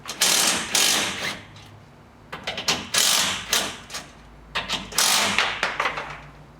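A ratchet wrench loosens the hardware on a rail angle bracket during a TruckBoss truck deck install, giving several bursts of rapid clicking separated by short pauses, close and fairly crisp, with no talking.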